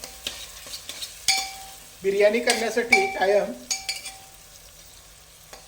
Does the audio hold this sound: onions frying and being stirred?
yes